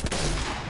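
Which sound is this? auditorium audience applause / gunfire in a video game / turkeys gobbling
gunfire in a video game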